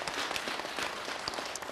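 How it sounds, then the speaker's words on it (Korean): A studio audience claps to welcome a guest on a Buddhist monk's televised question-and-answer talk show, a brief burst of many hands that is moderately loud and sustained with no speech over it. "박수로 맞으세요"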